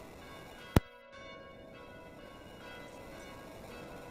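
Bells used as an alarm-like sound effect: one sharp strike, then a steady ringing tone that holds at moderate loudness to the end, with no voices.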